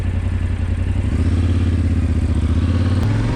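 A Yamaha Tenere 700 adventure motorcycle engine idles close by, a loud steady mechanical thrum with a slight rise in pitch near the end.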